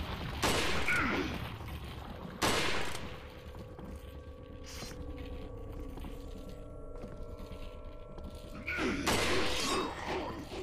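Gunshots in Resident Evil 4 VR ring out as a few sharp, loud bursts, two close together near the start and another near the end, with a quieter stretch of game noise between them.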